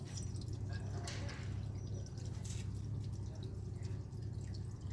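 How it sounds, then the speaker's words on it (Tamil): Water splashes and trickles steadily into a Toyota Qualis radiator opening, with faint background rustling and distant voices throughout. "இப்போ நாலாவது லிட்டர் ஊற்றிட்டு இருக்கிறோம்"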